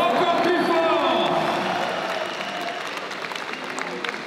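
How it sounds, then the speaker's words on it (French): An audience at a lively sports event in Colmar applauds loudly, dense clapping and cheering that starts full and gradually tapers off, with voices mixed into the crowd. "On applaudit encore bien fort Florian, s'il vous plaît."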